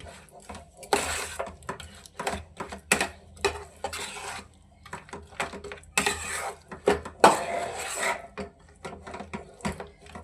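Peanuts are stirred quickly through sugar syrup in a pot, making repeated scraping, rasping strokes with bursts of clatter against the pan, close and uneven in rhythm.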